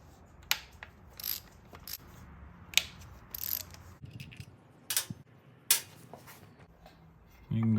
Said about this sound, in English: So all we got to do is pull these 2 bolts out.